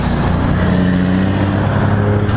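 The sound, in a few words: Can-Am Spyder roadster motorcycle engine on test ride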